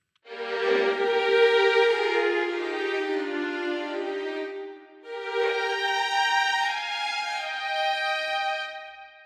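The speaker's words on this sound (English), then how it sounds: "Here's the same phrase using 2-note chords." Concert Strings 3 string section plays a legato phrase in two-note chords, two sustained swelling notes in succession, smooth and full with no talking.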